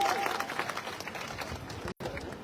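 Applause from an outdoor village crowd at Minister Ramesh Meena's address in Balwantpura (Khedla), a dense, steady wash of clapping that holds for a couple of seconds, breaks off briefly, then resumes.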